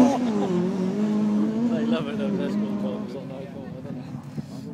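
A Mitsubishi Evo 10 rally car pulls away from the start line on a rally stage, its engine note rising and falling with gear changes under close commentary.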